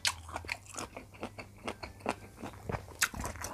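Spicy Thai octopus tentacle salad with radish being eaten up close, with a steady run of wet crunching bites and chewing in irregular bursts, no talking.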